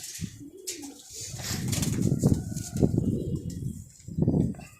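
Pigeons in a rooftop loft in Udhampur, low rolling coos repeating from several birds close by, with brief wing flutters, no talk heard.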